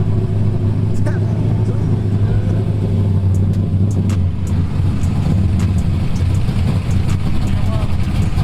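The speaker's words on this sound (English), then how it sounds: "That's all motor, baby." A Mopar muscle car, one of the Hellcats, Scat Packs and R/Ts at a car meet, rumbling loudly at idle with a deep steady engine drone throughout, close by, while people talk over it.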